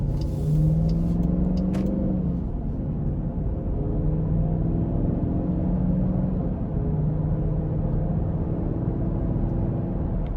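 A 2021 Dodge Durango R/T Blacktop's exhaust rumbles steadily from inside while driving on the road, a deep low drone with a slight rise in pitch under acceleration.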